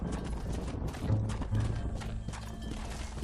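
Horse hooves clip-clop at a walk in the Red Dead Redemption video game, a steady, fairly quiet rhythm with occasional mechanical clicks.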